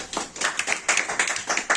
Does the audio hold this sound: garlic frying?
no